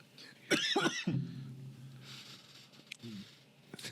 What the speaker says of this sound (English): There was a guilty cough right there.